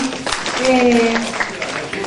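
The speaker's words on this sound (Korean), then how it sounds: "박수 한번 쳐주시죠" An audience claps at a 2014 Rafa Plus tenth-anniversary event after answering a question about a cleansing oil, with a steady crowd patter running under a person talking over it.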